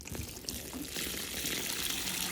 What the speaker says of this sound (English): now I'm going to try to pour some water on it